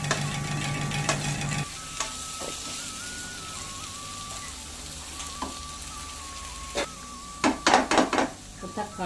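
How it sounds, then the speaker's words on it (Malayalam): Chopped tomatoes being stirred into onion masala in a frying pan for a crab curry: a faint sizzle with intermittent scraping and spoon clinks against the pan, ending in a quick burst of louder clatter. "രണ്ട് തക്കാളി മുറിച്ചതും കൂടി ചേർത്ത് നന്നായി ഇളക്കുക"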